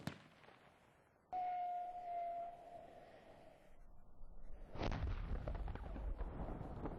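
A hand-thrown military pyrotechnic simulator with explosive powder and a friction igniter goes off: a faint whistling hiss, then a sudden loud burst that gives way to a broad, sustained rumbling roar at a distance.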